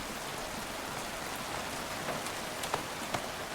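Steady hiss of rain in the video game Chasing Static, with a few faint drips or taps near the end.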